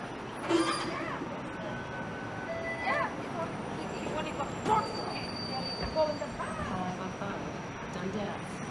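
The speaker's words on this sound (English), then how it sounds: "There's a 505 Dundas West Street car." A Toronto 505 Dundas West streetcar rolls past on a city street, its wheels squealing in repeated high, thin screeches over low rumbling and street bustle, with a voice talking nearby.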